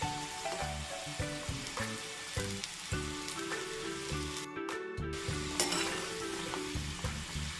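A potato snack with an already-cooked filling deep frying in hot oil until golden brown, a steady close sizzle and bubbling running throughout with faint stirring, under music and with no talk.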